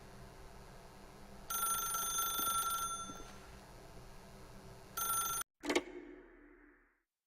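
A telephone rings in The Stanley Parable video game: bursts of bright, metallic bell-ringing, then a pause and another short burst, ending with an abrupt clunk as the line cuts out.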